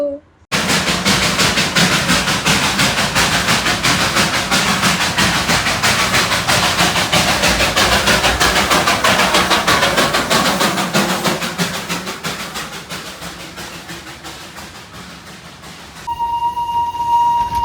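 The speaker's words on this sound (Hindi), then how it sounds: "अचानक से फिर ट्रेन की आवाज़ सुनाई दी" A train rumbles past on the railway track close by, a loud, steady roar with rattling wagons that eases off toward the end before a brief tonal horn-like sound rises.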